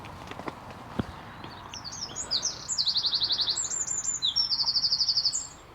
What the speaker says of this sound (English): That constant noise in the background, that's skylarks. They make a constant noise.